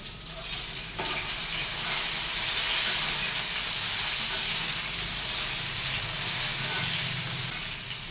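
Okra (bhindi) frying in a pan at home, a steady, close sizzle with a bright hiss that holds loud and even throughout, with faint stirring and no talk.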